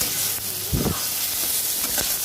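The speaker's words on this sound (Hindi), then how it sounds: "ये जो हमारा तीनों का मिक्सचर है बहुत अच्छे से इसको फ्राई कर रही हूँ।" A mixture of finely chopped onion, green chilli and capsicum frying in a pan gives a steady loud hiss and sizzle, with a few brief stirring clacks.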